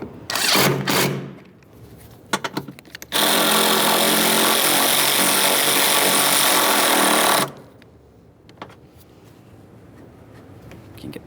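A power tool runs in a loud, steady whirring burst for about four seconds as it snugs nuts onto the studs of a 1998-2011 Ford Ranger 2.3L coolant reservoir, preceded by shorter bursts and followed by quiet handling clicks.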